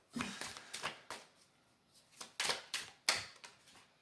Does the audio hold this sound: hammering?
no